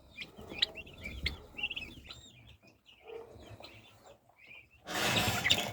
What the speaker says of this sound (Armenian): Իսկ դրանք հավի ճտերն են